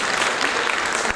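An audience claps for children receiving junior prizes at the Bundeli Mahotsav 2023 prize ceremony, a brief, dense burst of applause heard at moderate distance.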